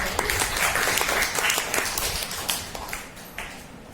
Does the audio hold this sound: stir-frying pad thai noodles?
no